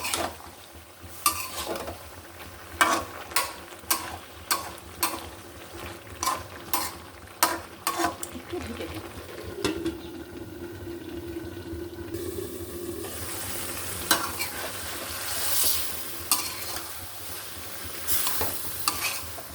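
Bottle gourd curry is stirred in a frying pan: repeated scraping strokes of a utensil against the pan come in a steady rhythm over a soft background sizzle, close by and with no speech.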